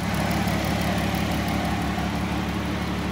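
A 2012 Town & Country idles with its A/C compressor engaged, giving a continuous, even low engine hum and vibration with no change across the span.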